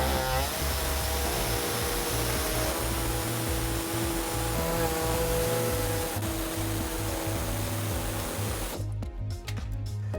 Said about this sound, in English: we're going to use an air saw and we're going to cut out this hole